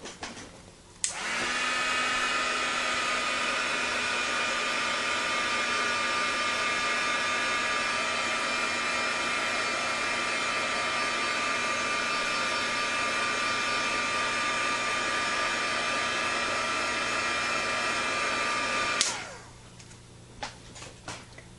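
A heat tool drying paint on a paper tag blows with a steady, loud whooshing hum for about eighteen seconds, with a click as it switches on and off, close and alone.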